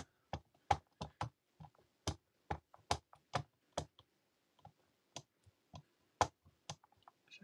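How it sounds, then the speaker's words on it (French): Rubber stamp pressed repeatedly onto an ink pad while making a butterfly card, giving a run of sharp, close, distinct taps at an irregular rhythm with short silences between them. "Donc, j'appuie mon tampon encreur."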